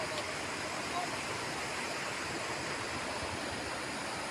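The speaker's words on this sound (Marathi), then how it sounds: "हे पाणी आता जे वाहते हे थोडं जास्त आहे" A steady rushing of the Varoli River's flowing water fills the scene, a constant broadband wash with no pauses.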